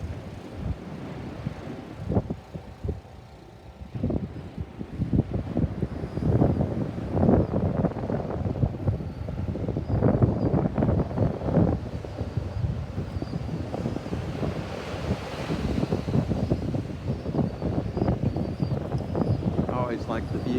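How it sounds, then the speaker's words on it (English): Gusty wind buffets the microphone on a chilly beach pier above the ocean, making low rumbling bursts that rise and fall under a person talking throughout. "a little windy, so I'm not sure how the audio's doing"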